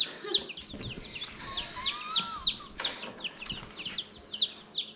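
Baby chicks in a brooder peep constantly in rapid, high-pitched chirps, many overlapping at close range, with soft shuffling and faint rustling underneath.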